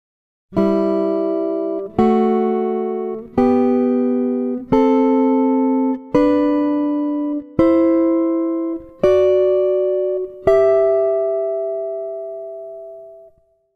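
Eight plucked guitar double-stops, a scale harmonized in sixths, ring out one after another in a slow, even climb, each chord decaying before the next, with the last note left to ring.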